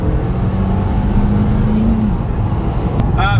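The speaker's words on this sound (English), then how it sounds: "turbo does spool up. Like, it spools up proper fast." Small car, a little 3S, revving with its turbo spooling up fast, a loud close engine roar holding steady for a few seconds before a brief high whistle near the end.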